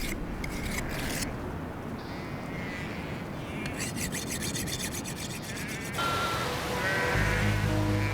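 Sheep bleating in the highlands of Archib, Dagestan, at about 7,000 feet, with several calls rising over a steady rustling, rubbing background; a louder, closer bleat comes near the end.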